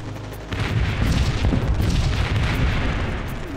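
Massed artillery, some 2,200 guns in an Egyptian desert battle of the October War, firing together as a loud, continuous rumbling barrage of overlapping booms with no gaps between them.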